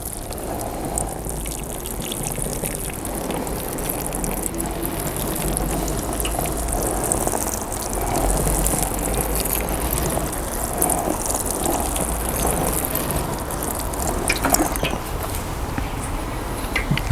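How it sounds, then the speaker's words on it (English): Newly divided Geranium 'Rozanne' plants being watered thoroughly, a steady close splashing and pouring of water running on without pause for the whole stretch, with no talking. "remember to give them a really good water"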